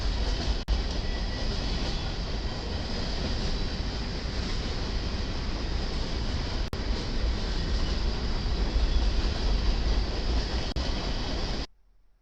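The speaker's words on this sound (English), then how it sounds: "we see BNSF 5686 leading a transfer train" BNSF GE AC4400CW locomotive, built 2004, pulling a transfer train of mostly plastic pellet hopper cars; a steady, loud rumble of rolling wagons and wind runs continuously, close by, then cuts off abruptly at the end.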